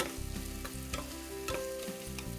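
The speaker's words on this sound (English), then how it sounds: "Have a nice sweat on our red onions" Red onions sweating in a pan on a stovetop give a soft, steady sizzle, with a few light scraping knocks as they are stirred; the sound is fairly quiet and close, with no talking.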